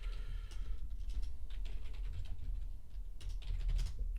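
Irregular keystrokes on a computer keyboard, quiet and close, come in short bursts of clicks over a low background hum, with no talking.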